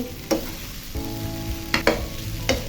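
Noodles with green chillies being stirred in a frying pan, a close, steady sizzle broken by a few sharp scrapes and clanks of the utensil against the pan.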